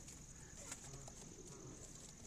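Pigeons kept indoors coo softly in a cage, making faint, low repeated coos against a quiet room hiss.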